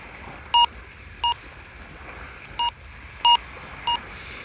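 A metal detector beeps on a signal in five short, evenly spaced tones over faint outdoor background hiss, with no talking.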